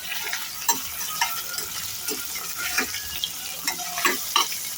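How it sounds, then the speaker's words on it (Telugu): Beetroot and carrot frying in a pan while being stirred, with repeated utensil scrapes and taps over a low, steady sizzle, close and clear. "ఇలా యాడ్ చేసుకున్నాక ఒకసారి కలుపుకుందాం."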